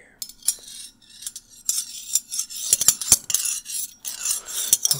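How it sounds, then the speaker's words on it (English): A metal teaspoon clinks against dishware in close, crisp taps and short scraping bursts, with quiet pauses between strikes and no voice. "It's another teaspoon."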